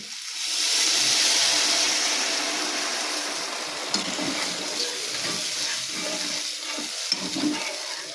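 Water poured into a pan of paneer and potato curry spices, a loud hissing sizzle and splashing rush that swells at the start and settles into steady bubbling.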